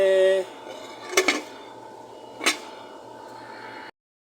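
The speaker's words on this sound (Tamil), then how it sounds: "அப்படியே மூடி வைக்கலாம் நண்பர்களே" A metal lid set onto a cooking pot of potato curry, giving a couple of sharp clinks near the start and another scrape-clink a moment later, close by over a quiet room hum.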